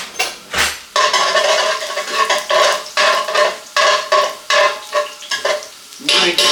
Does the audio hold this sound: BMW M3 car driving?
no